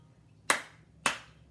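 Two sharp, close hand claps ring out about half a second apart in a sing-along of the children's song Bingo, each crisp with a quick decay into a quiet room.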